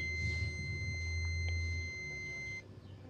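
Electronic buzzer on a simple homemade rain-water sensor circuit giving a steady high tone that holds for a few seconds and then cuts off, close and fairly faint over a low hum.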